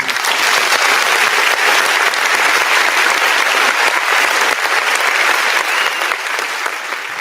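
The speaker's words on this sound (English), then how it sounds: "give yourself a round of applause." A dense, steady wall of audience applause holds loud and continuous throughout, with only a slight easing near the end and no clear talk over it.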